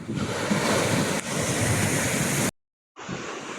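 Surf rolls and crashes steadily on Monogaga beach in Côte d'Ivoire, a loud continuous wash of breaking waves with wind buffeting the microphone, cut by a brief silence before the surf returns.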